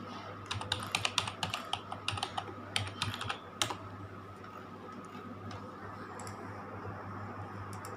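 A password typed on a computer keyboard: a quick burst of close, crisp key clicks in an uneven rhythm that trails off into quiet room hum.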